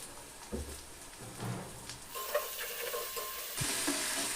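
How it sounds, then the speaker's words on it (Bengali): Onion and garlic fry in mustard oil for a crab curry, a soft steady sizzle with occasional stirring clatter and scrapes, quiet and close, getting brighter and hissier partway through; no one speaks. "পেঁয়াজ আর রসুনটাকে একটু ভাজা ভাজা করে নিতে হবে"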